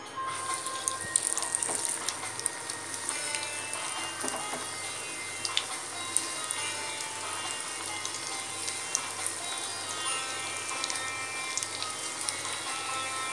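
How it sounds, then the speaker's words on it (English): Malai kofta balls frying in hot oil over a low flame, giving a steady, quiet sizzle with faint crackles and no talk. "Now I am going to fry it in the oil."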